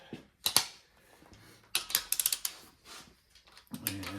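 A torque wrench on the main cap bolts of a 400 small-block Chevy gives a quick close run of sharp ratcheting clicks, with scattered metallic handling knocks before and after.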